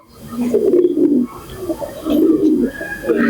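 Pigeons coo close by in a loft in low, throaty rolling phrases, two or three calls overlapping with faint chirps behind.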